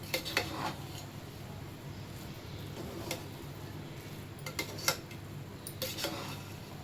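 A spoon stirs pattani pulao, rice with green peas, in a pot, giving faint, scattered scraping and tapping clicks against the metal over a low background hiss.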